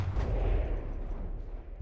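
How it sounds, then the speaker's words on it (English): Explosions strike a ship in the game From the Depths, a dense, rumbling barrage of booms and blasts that stays heavy throughout before thinning slightly, with no talking over it. "Oh, now we got hit by some explosions"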